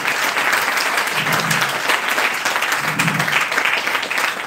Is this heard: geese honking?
no